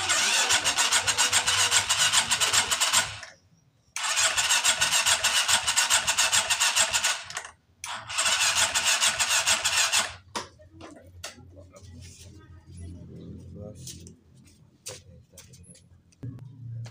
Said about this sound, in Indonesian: kita akan siap nyalakan motornya